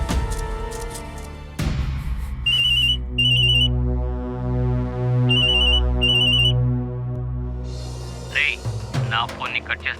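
An incoming call's phone ringtone chirps in two short bursts of rapid electronic trills, fairly close, over a steady background music drone.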